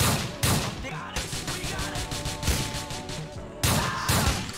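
Dense gunfire in Grand Theft Auto IV, rapid overlapping shots and bursts crackling nearly continuously at full loudness, with short heavier volleys near the start and end.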